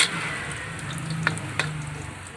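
Onion frying in oil in a pan for adobong kangkong gives a steady close sizzle with a low hum and two sharp crackling pops, and there is no talking.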